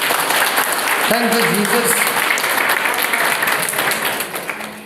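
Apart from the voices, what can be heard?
congregation applauding loudly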